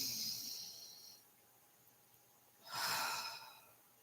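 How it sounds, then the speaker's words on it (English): One deep breath, close and soft, with an audible inhale and a longer airy exhale a couple of seconds later in a quiet room. "Deep breath."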